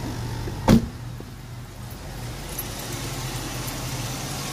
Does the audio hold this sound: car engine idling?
yes